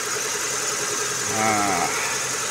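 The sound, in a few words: Proton Saga 1.3 car engine idling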